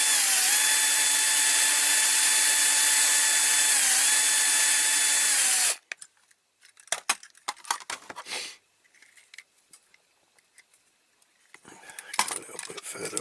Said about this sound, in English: let's get these rivets drilled. Start off with a small drill bit, as usual.